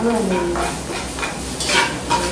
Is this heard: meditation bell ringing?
no